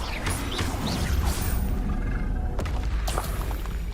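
Blasting spell explosion in the Hogwarts Legacy video game: a deep booming burst with rumbling crashes and a sharp impact near the end, loud and alone.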